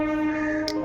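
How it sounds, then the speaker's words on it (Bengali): A passing train sounding a long, steady horn close by, a loud sustained tonal blast with a brief click near the end. "আমি যখনই কথা বলি ট্রেনের আওয়াজ হয় আর কি, মানে ট্রেনের সিগন্যাল দেয়"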